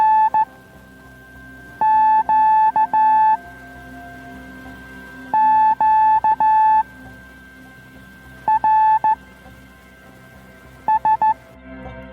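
Morse code on the 80-metre amateur band during a Tuesday evening CW net: a steady carrier-like tone with bursts of keyed beeps in irregular groups, fairly clear over a faint hiss, with no talking.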